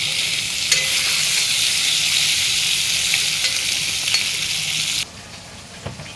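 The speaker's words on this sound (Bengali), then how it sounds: "তো মাছগুলো আমি একটু ভেজে নেব" Fish sizzles and crackles in hot oil in a pan, a loud, steady frying hiss close up that drops away abruptly near the end, with no talking.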